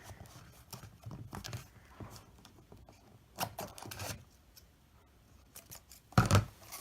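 Scissors snipping through duct tape, a series of sharp close cuts spread over several seconds with softer handling rustles between them and a louder crunching cut near the end.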